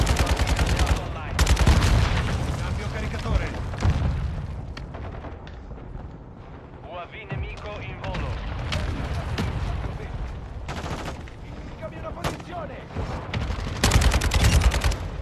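Loud bursts of automatic gunfire and explosions in the video game Call of Duty: Modern Warfare 2 play almost continuously, with a player talking over the shooting.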